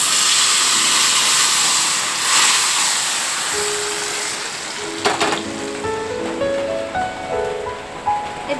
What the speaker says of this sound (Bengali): এবার আমরা কড়াইয়ের মধ্যে ভাজা তেজপাতাগুলি, শুকনো লঙ্কা, পাঁচফোড়নগুলি এবার আমরা আস্তে আস্তে এটার মধ্যে ঢেলে দেব।